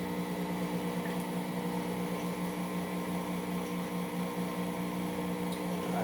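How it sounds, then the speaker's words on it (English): An electric mixer whirring through vegan sweet potato pie filling, a steady, even motor hum with a constant buzzing tone, moderately quiet and uninterrupted, with no talking. "we're going to turn this on and let it begin to mix"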